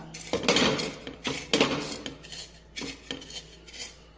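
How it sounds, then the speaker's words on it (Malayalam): Several sharp metallic taps of a spoon against fried prawns and a plate, in quick uneven clusters, close up and without any talking. "സ്പൂണോ വെച്ചിട്ട് ഒന്ന് മുട്ടി കൊടുത്താൽ ഇതിൻ്റെ ഈ തല പൊളിഞ്ഞു വരും"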